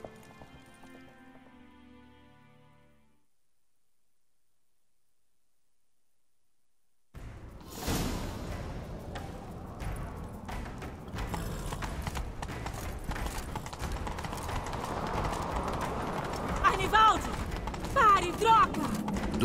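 Horse hooves clip-clop at a gallop in The Witcher 3, starting after a stretch of near silence and continuing steadily with tack rattles and other game sounds mixed in.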